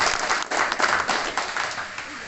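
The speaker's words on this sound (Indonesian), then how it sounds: "Tepuk tangan untuk beliau." Audience at a Kamtibmas Indonesia formal gathering applauds briefly for a speaker, a short burst of mixed clapping that swells and fades while a voice briefly speaks over it.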